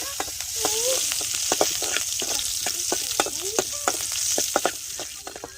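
Cumin seeds and green chillies sizzling in hot oil in a pan while being stirred, a steady frying hiss broken by repeated sharp clicks and scrapes of the spoon against the pan, close and continuous.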